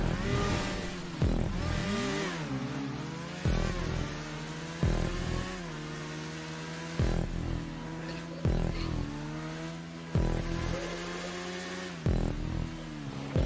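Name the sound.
motorcycle engine revving in the video game GTA V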